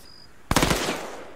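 A short, loud burst of automatic gunfire in Arma 3 breaks out suddenly after a quiet moment, a few rapid shots followed by a brief echoing tail.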